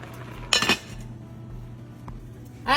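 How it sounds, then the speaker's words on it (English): A lid set onto a cooking pot holding sausage, one short metallic clatter up close, followed by quiet room hum and a faint clink near the end. "put the lid on"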